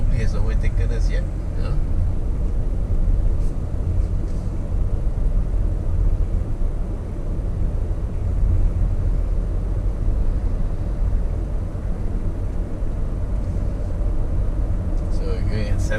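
A Toyota Corolla Cross 1.8G accelerates gently but steadily through urban traffic, heard from inside the cabin as a continuous low engine and road drone that stays fairly even throughout.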